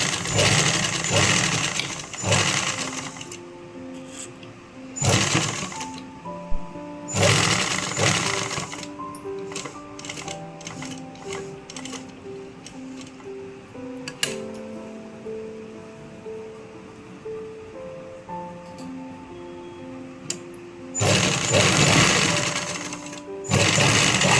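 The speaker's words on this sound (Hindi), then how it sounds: "और फिर हम सिलाई लगाएंगे।" A sewing machine stitches a designer kurti in bursts, its whirring runs starting and stopping several times, with a tonal hum and quieter pauses between the stitching passes.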